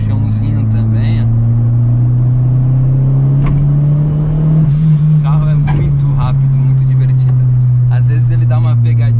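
A Ford Ka 1.6 fitted with a turbo kit and a full 2.5-inch exhaust drives along, its engine holding a loud, steady low drone heard from inside the cabin, with someone talking over it.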